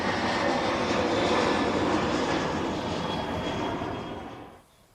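A jet airliner takes off at KLIA airport in Malaysia, its engines roaring close and loud as a dense broadband rumble that holds steady, then fades away sharply near the end.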